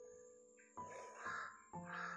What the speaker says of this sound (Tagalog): may uwak dito sa malapit namin